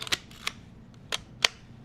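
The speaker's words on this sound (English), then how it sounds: "if you guys do want to hear the shutter here" A Leica film camera shutter firing, four sharp close mechanical clicks spaced unevenly over about two seconds against a quiet background.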